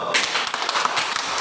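Classroom applause for a student: a brief burst of fairly dense clapping from pupils, steady and close throughout.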